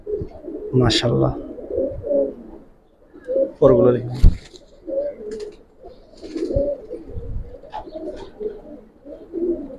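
Giribaz pigeons coo softly in a loft, low burbling calls recurring through the clip beneath a man's close speech.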